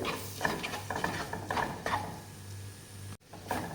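Spice powders being sautéed in a pan for sardine curry: a spoon scrapes and stirs in repeated strokes over a faint sizzle, fairly close and steady, with a short break near the end.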